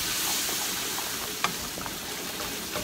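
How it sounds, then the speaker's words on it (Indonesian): Margarine and wheat flour being stirred together in a pan to start a thick sauce for bolognese mac and cheese, a continuous sizzling hiss broken by a few soft scraping clicks. "Kemudian kita aduk sampai rata."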